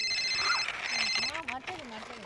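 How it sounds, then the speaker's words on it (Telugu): A phone rings with a repeating electronic trill, fairly loud and close, while someone speaks over it during the ringing. "ఏ అత్తమ్మ ఫోన్ చేస్తుంది"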